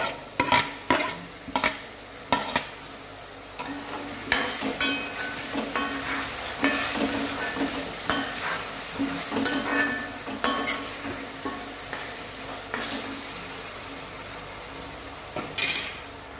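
Onions and tomato cook in a hot pan, a steady sizzle broken by repeated scraping stir strokes, loud and close throughout.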